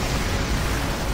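Explosions from Shiva's Impulse attack in Final Fantasy X, a dense, continuous rumbling roar of blasts filling the whole moment, loud and booming with no clear gaps and no voices.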